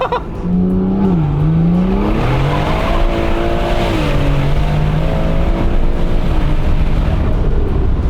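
A BMW 140i engine revs hard with loud, booming intake noise, its pitch rising and falling through several sustained pulls, close and continuous with no talking.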